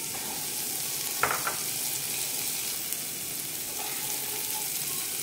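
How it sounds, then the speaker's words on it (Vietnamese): Chilli goes into a pan where shallots and garlic are already frying in oil, making a continuous soft sizzle with a couple of brief utensil taps, no voices. "Hành tỏi thơm mình cho ớt vào."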